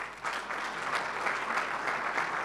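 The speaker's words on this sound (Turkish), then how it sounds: "Onlara bir alkış bekliyorum." An audience at a referees' award night applauds the provincial representatives with steady, sustained clapping that swells in after a brief quieter start and holds evenly to the end.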